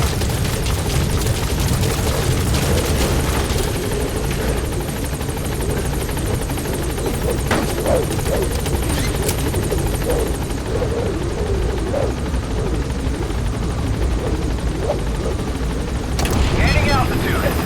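Helicopter in the video game Metal Gear Solid V: The Phantom Pain, a steady loud rotor thrum and engine whine throughout, with faint game voice lines and a brief burst near the end.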